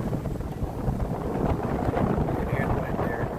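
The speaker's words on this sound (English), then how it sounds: "And wind there." Steady wind rushes over the microphone aboard a fast-moving boat at sea on a day between storms, with a constant low roar and buffeting throughout while someone speaks briefly.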